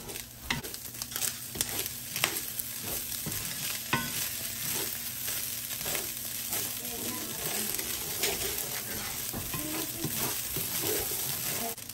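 Rice frying in olive oil in a pan while being stirred, browning to golden: a continuous close sizzle with repeated scraping and clinking stirring strokes throughout.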